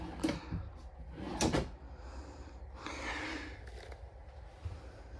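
A dovetailed soft-close drawer in a 2024 Brinkley Model Z 3100 fifth-wheel RV slides shut with a few soft knocks and a smooth gliding rush, quiet and nearby, with no talking.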